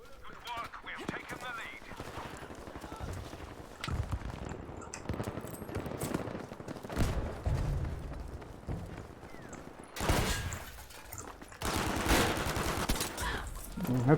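Hip-fired submachine gun bursts in Battlefield V, coming as rapid automatic fusillades mixed with other battlefield noise, with louder, denser bursts near the end and talk over parts of it.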